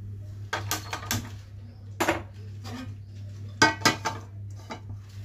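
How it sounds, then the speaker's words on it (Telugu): A cooking pan is set on a stove with several sharp metallic clanks and knocks, spaced irregularly over a low steady hum of the burner or room. "ముందు స్టవ్ వెలిగించి ఒక బాండీ పెడదాం."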